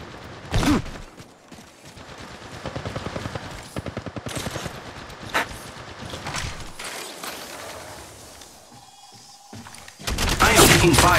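Gunfire in Apex Legends Mobile, played on an iPad: loud rapid automatic bursts and single shots rattle close by, broken by short pauses, with a heavy burst at the end.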